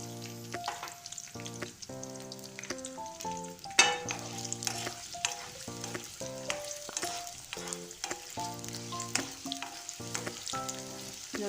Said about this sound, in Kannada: ಮೊದಲಿಗೆ ಈರುಳ್ಳಿ ಹಾಕ್ತಾಯಿದ್ದೀನಿ.